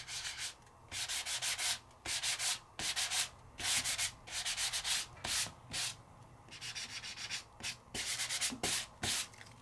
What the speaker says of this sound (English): A little bit of sanding.